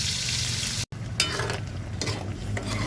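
Pork adobo with potatoes cooks in a pan with a steady sizzle and the scrape of stirring. A short dropout near the start briefly cuts the sound before the sizzle resumes.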